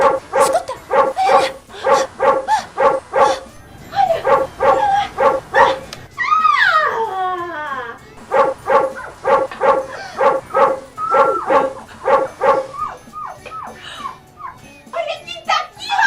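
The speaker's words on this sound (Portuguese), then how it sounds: "Ele adora cuidar da cachorrinha Flica." A small female dog barks close by in quick repeated bursts, with short pauses and a drawn-out whining yelp partway through.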